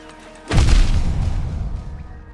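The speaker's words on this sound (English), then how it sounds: "I thought I had enough range to get out of that explosion." A deep, booming explosion in the Hollow Knight video game, a single sudden blast with a rumbling low tail that slowly fades over about two seconds.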